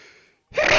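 Single sharp human sneeze during a tabletop role-playing game session, preceded by a faint inhale and brief silence, then a loud explosive burst that rings out close to the microphone.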